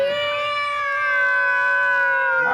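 A drawn-out, tonal meow, seemingly a human voice imitating a cat, held steadily for a couple of seconds.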